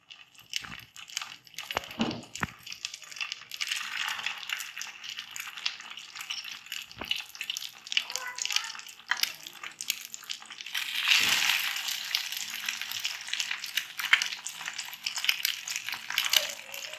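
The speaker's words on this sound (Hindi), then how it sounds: "एक टाइम में जितने भी आपके पैन में आ जाए आप उतने ही कबाब फ्राई कर लें।" Noodle kebabs dipped in egg fry in a pan, a quiet steady crackle and sizzle with occasional soft clatters and bumps, no talking.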